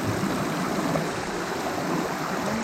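Flowing water of the Daraitan river rushes steadily and close, a continuous broadband wash with no voices over it.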